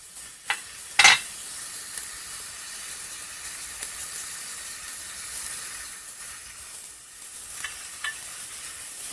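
Onion and garlic fry in a pan with a steady, moderate sizzle, and a few sharp clinks and scrapes of stirring stand out near the start and later on. No one speaks.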